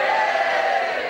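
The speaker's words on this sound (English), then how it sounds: "just by a cheer or a round of applause" A live audience roars a loud, sustained cheer for about a second when asked who drinks alcohol, voices blending into one dense crowd shout.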